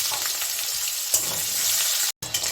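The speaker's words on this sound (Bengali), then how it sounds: "এই আলুটাকে আমি একটু হালকা ভেজে নিচ্ছি।" Small red potatoes fry lightly in white cooking oil, giving a steady, close, loud sizzle that runs almost unbroken, with one brief drop to silence near the end.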